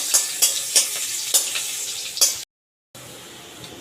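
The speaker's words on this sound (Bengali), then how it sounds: "রসুন কুচি দিয়ে দিলাম একটু এক মিনিট নেড়ে নেবো" Chopped garlic stir-fried in hot oil, sizzling steadily up close while a utensil scrapes and stirs the pan in regular strokes, then a short dropout before the sizzle resumes alone.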